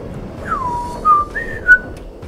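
A person whistles three short rising and falling notes, close and clear over a steady low background hum.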